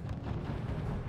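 Artillery fire in the video game R.U.S.E., heard as dense overlapping booms and rumbling blasts, with a player's voice mixed in underneath.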